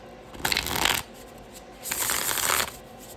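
Two quick riffle shuffles of a deck of cards, each a short fluttering burst close up, separated by a brief pause.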